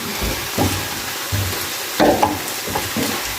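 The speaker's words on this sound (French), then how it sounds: "j'essaie de bien mélanger" Tomato and oxtail mixture for a spiced beef-tail broth being stirred in a pot, with close, irregular scraping strokes and soft sizzling in between.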